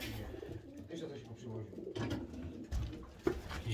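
Pigeons coo in a loft full of cells with young birds, soft repeated throaty calls close by, mixed with rustling, thumps and a voice speaking now and then.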